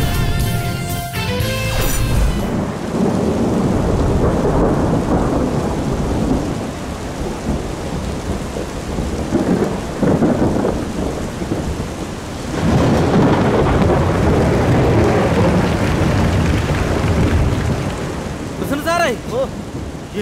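Stage sound effect of a thunderstorm with heavy rain during a comedy show, loud continuous downpour hiss with rolling thunder crashes that swell and fade over twenty seconds, with a brief burst of voices at the start.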